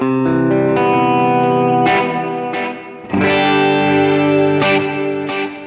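Electric guitar playing a clean tone with light drive and a shimmering chorus effect, strummed chords ringing out with sustained, reverberant decay, loud and close, no talking.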